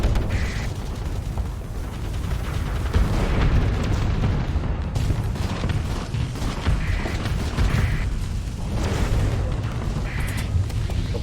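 Booming explosions and mine detonations from spaceship combat in Starsector, rumbling bursts recurring over a continuous dense mechanical roar with no talk.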